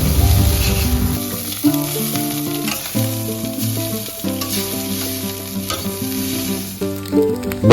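Turmeric-yellow egg chow mein sizzles steadily in the pan as fried vegetables are stirred through the noodles, a continuous close hiss with scraping strokes, under steady background music.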